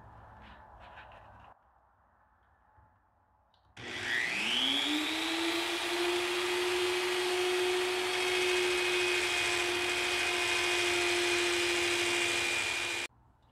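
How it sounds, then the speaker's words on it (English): A soft carding wheel on a power tool spins up abruptly and whirs steadily as it refinishes an SKS rifle stock, a loud even whine with rising pitch at start-up that cuts off sharply near the end. "now I'm going to use a carding wheel. It's nice and soft. This is not a wire wheel."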